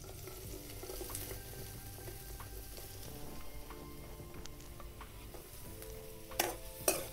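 Onion stirred into a hot pan where chillies are already frying, with a steady close sizzle and scraping stir running throughout and a couple of sharper clatters near the end.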